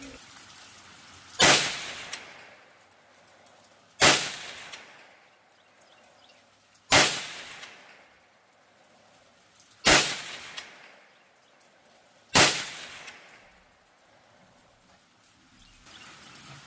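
Five sharp, loud cracks from a .22 WMR rifle firing CCI Maxi Mag TNT 30-grain rounds, spaced about three seconds apart. Each shot rings briefly into a short decaying tail, and quiet gaps fall between them.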